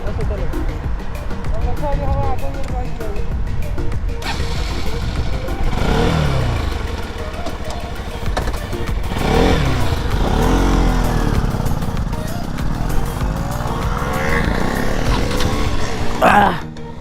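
Motorcycle engine droning loudly while riding along Marine Drive, wind-buffeted with rising and falling revs, under continuous talk from riders.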